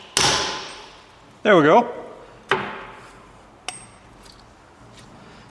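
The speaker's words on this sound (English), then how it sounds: "it's important that you tap on the inside of the bearing so that you don't damage it on the outside" Sharp metallic hammer taps on the inner race of a rear wheel bearing on a Volkswagen Golf Mk4, a few spaced, ringing strikes with a short spoken remark between them.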